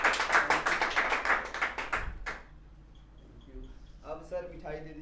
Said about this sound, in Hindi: तालियां बजाते हैं, तालियां बजाते हैं,